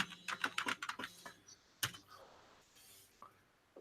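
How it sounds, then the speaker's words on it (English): Typing on a computer keyboard: a quick burst of close key clicks, a pause, a sharp single strike, then a few scattered soft taps, with no talking. "Obviously, my typing is terrible."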